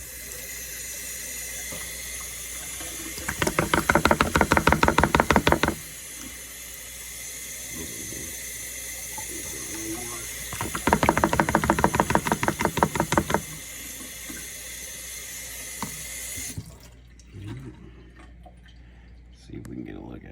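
Clean water pours in two bursts of several seconds into a gold pan while test panning, with splashing and trickling over a steady background hiss, and a person speaks in between.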